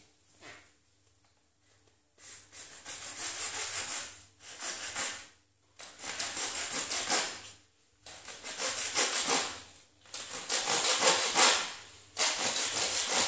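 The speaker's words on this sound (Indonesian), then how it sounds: "Lalu kita gergaji." A hand saw rasps through plastic pipe in a series of long, steady strokes with brief pauses between bursts, close and fairly loud, no talking.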